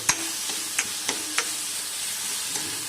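Ridged gourd curry simmering and frying in coconut oil in a pan, with a steady bubbling sizzle and several sharp spoon-stirring clicks spaced through the clip, no voices.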